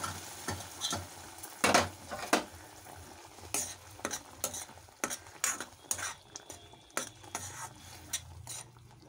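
Boiled dal being stirred into cooked gongura leaves in a pan, with repeated close scrapes and clinks of a spoon against metal over a faint simmering sizzle.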